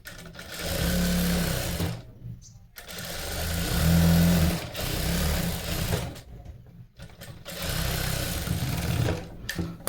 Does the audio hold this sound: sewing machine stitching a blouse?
yes